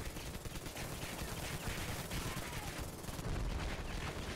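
Rapid automatic gunfire in the mobile shooter Battlefield Mobile, dense continuous bursts of shots throughout, fairly close and loud.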